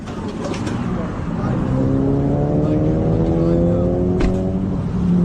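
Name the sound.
car engine running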